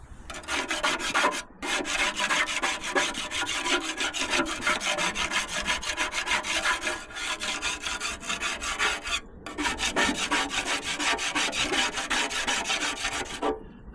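Metal spatula scraping old layers off the oil pan of a 1952 Chevy truck, a continuous close rasping scrape with a few brief pauses.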